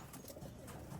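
Racing pigeons coo softly in a loft, low throaty murmurs mixed with faint rustling, quiet and continuous over the short stretch.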